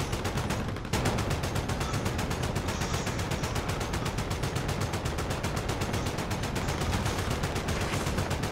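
Sustained automatic gunfire rattles nonstop in a Call of Duty: Modern Warfare match, dense rapid bursts filling the whole stretch at close range with no break.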